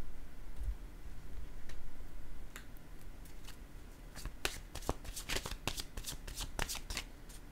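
Oracle cards are shuffled close by, quiet papery rustling in the first half that turns into a run of crisp, rapid riffling snaps toward the end.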